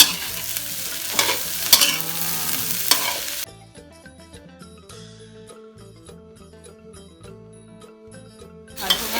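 Eggs seasoned with salt and pepper sizzle loudly in a pan as a utensil stirs and scrapes through them, then the frying drops to a quieter background before the crackling swells again at the end.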